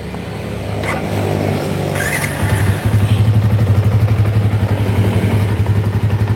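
A repaired motorcycle engine, its middle crankcase sealed with glue instead of a gasket, runs close by with a rough rising whine. It then settles into a loud, rhythmic pulsing beat, with no talking.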